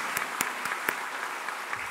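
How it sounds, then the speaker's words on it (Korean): A church congregation applauds during an ordination and installation service, a continuous wash of clapping with a few sharper individual claps standing out near the start. "박수로 크게 환영해 주시기 바랍니다."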